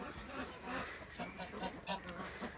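Farm geese give soft honks and murmuring calls from nearby, several short overlapping cries over a low background.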